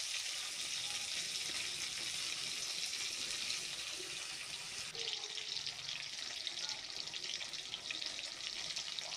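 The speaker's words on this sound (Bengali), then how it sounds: "ভাজা ভাজা হচ্ছে মাছগুলো" Hilsa fish pieces fry in hot oil, a steady close hiss and crackle of sizzling that runs throughout without pause, briefly shifting in tone midway as the pieces are turned.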